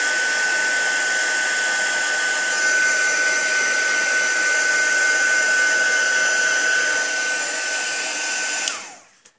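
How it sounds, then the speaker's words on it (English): A handheld embossing heat tool blows hot air in a steady, loud whoosh with a thin whine for about nine seconds, then cuts off abruptly near the end. "I am going to keep my heat tool out"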